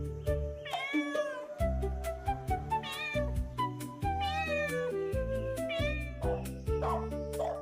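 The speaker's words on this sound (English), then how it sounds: "Cat. They might share our homes" A domestic cat meows again and again, close and clear. Some calls are short and others drawn out into long, wavering, whiny cries, with brief pauses between them.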